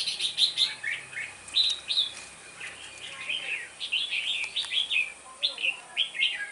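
Red-whiskered bulbul, a seven-month-old wild-caught bird with a wing fault, gives repeated bright chirps and short warbled calls throughout, moderately close, over faint background hiss with no talking.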